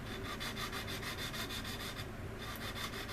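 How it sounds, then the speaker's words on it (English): Rapid, even back-and-forth rasping of an emery board sanding seams on a resin model aircraft kit, close and steady with a brief pause near the end. "by sanding those nest cells right there, folks, I'm doing right here with this emery board or sanding stick"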